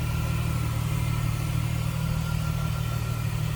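A 2001 Plymouth Prowler Mulholland Edition's 3.5 liter engine idles smoothly, a steady low rumble holding at constant loudness throughout, close up and with no voices.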